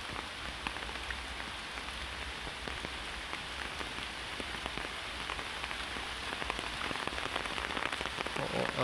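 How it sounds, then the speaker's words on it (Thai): Heavy rain pours steadily during a storm, with flooding around, making a dense, constant hiss and patter of drops on surfaces that builds slightly louder toward the end. "ตอนนี้ฝนก็ยังตกอยู่นะครับทุกคนยังไม่หยุดนะครับผม"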